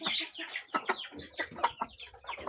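A hen nearing egg-laying age clucks in a soft, frequent, grumbling series of short calls, close by and with no talking.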